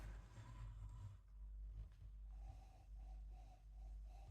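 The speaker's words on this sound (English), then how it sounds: "So let's give it a sniff." Close, quiet sniffing and breathing near the microphone as someone sniffs a rum, a few soft inhalations in a row with no talking.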